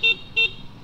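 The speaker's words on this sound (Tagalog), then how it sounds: "Tapos busina niya" Two short beeps from the horn of a Yamaha Mio Fazzio scooter, sounded close by with a brief pause between them and faint background after.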